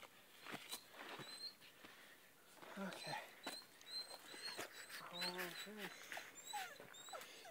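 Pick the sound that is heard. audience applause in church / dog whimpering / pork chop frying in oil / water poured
dog whimpering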